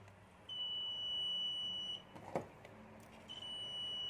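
A multimeter's continuity buzzer beeps in a steady high tone while a 6-pin toggle switch is tested. There is one long beep, a gap with a faint click, then another beep starting, all fairly quiet.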